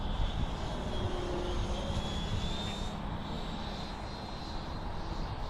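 A 90mm RC F-22 jet plane with a Leopard-motor jet fan on 12S, doing speed passes over 200 km/h, roars past in a steady, loud, whining rush of fan noise that shifts slightly in pitch as it goes by.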